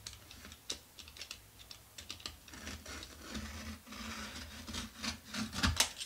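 A yellow postal package being cut open by hand, with scraping, rasping and rubbing of blade on plastic and cardboard in irregular close bursts, fairly quiet with no talk.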